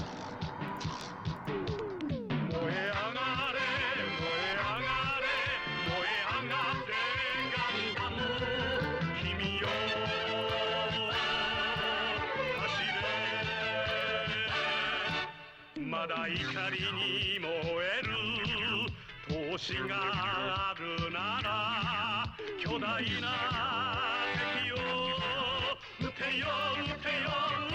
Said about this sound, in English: it can't be anything but the Gundam opening